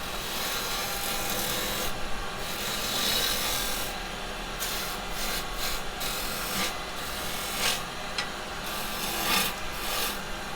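A 1 1/4 inch roughing gouge cuts a spinning wooden mallet blank on a lathe, giving a steady close-up scraping rasp with uneven bursts as the tool bites and eases off.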